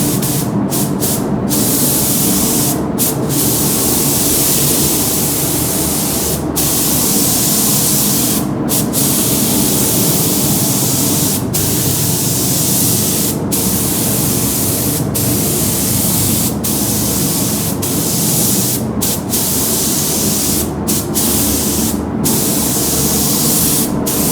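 An aerosol can sprays orange paint onto a Traxxas Maxx RC car shell, a loud, close, continuous hiss that runs almost unbroken, cut by a series of short sharp pauses as the nozzle is released.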